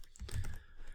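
Typing on a computer keyboard, a short burst of a few close keystrokes clustered together, heard alone without talk.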